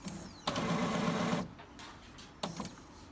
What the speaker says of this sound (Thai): อาจจะให้เวลามันสักแป๊บหนึ่งจนเสียงปรินเตอร์เงียบไปนะครับ